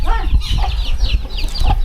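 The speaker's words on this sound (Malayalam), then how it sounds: "കോഴിക്കുഞ്ഞുങ്ങൾ." Chicken chicks in a farmyard pen cluck and cheep in quick, close bursts, the lively chatter loud and continuous for a brief moment.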